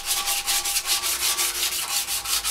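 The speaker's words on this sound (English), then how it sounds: "And then I can final sand it." Bondo body filler on a motorcycle fairing is sanded by hand in steady, rhythmic back-and-forth strokes, about five per second, loud and close with no talking.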